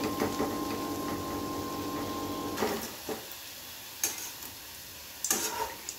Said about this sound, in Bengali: তেল গরম হয়ে গেছে, তাহলে এগুলো আমি তেলের মধ্যে ততক্ষণে দিই